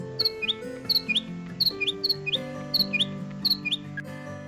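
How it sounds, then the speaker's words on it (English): A sparrow chirps in quick repeated pairs of high tweets, bright and close, set over a sustained musical backing. "it's a sparrow"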